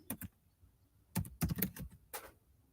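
Quick bursts of clicking keystrokes on a computer keyboard, a couple of taps, a pause, then a rapid cluster of clacks and one final key press, close and fairly quiet with no talk.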